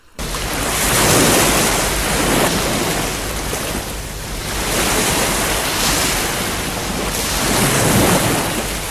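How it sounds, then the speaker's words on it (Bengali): Stormy ocean waves on a dark, cloudy sea in an animated horror story: loud, continuous surf that swells and recedes in slow surges, with no voices. "শিব তখন গভীর মেঘলা সমুদ্রে।"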